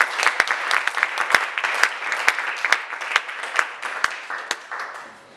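A church congregation applauds in lively, sustained clapping with sharp individual claps standing out, loud and close, fading slightly at the end, with a voice faintly under it.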